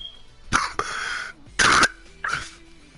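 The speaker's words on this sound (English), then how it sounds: "That's a cough." Several sharp coughs from a person at close range, three distinct bursts spaced over a few seconds, in a quiet room with no talking in between.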